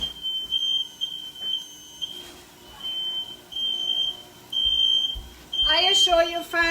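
A smoke alarm in a kitchen gives repeated high, piercing beeps in short bursts while someone talks over it, ending with a louder, shrill chirping sound.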